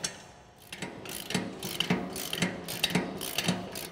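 A hand ratchet tightens bolts and nuts on a UTV snow plow with quick, repeated clicking strokes close by, in an even rhythm, with no talking.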